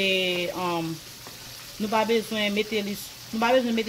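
Haitian meatballs (boulet) fry in hot oil with a soft sizzle that continues beneath a person talking in short bursts.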